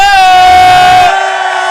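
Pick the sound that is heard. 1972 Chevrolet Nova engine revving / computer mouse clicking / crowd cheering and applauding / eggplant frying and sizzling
crowd cheering and applauding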